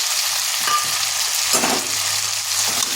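Ginger garlic paste frying in a pan with cauliflower and egg, giving a loud, steady, dense sizzle throughout with a brief stirring swell midway, no voices.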